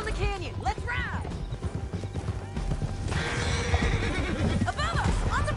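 Horses gallop through a canyon in the video game Red Dead Redemption 2, with steady clip-clop hoofbeats and occasional neighs under a busy, dense game mix.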